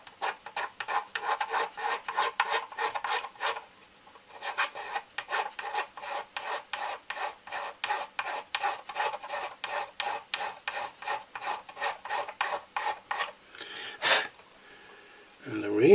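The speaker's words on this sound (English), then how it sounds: "we're going to file these." Rasp file worked back and forth over small model parts for a Star Wars Empire Strikes Back rebel base build, giving a steady run of close, even rasping strokes with a short pause early on.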